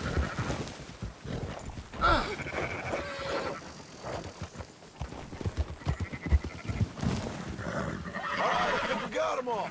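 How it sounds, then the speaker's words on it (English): Sheep bleat repeatedly among hoofbeats and riding noise in the Red Dead Redemption 2 video game, with voices talking over the flock. "Marston, why don't you leave the sheep to me?"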